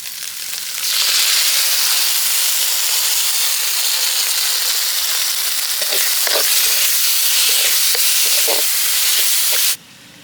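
Ground tomato paste poured into a hot pan with ginger-garlic paste for a village-style egg thokku, erupting into a loud, steady sizzle with scattered stirring scrapes before cutting off abruptly.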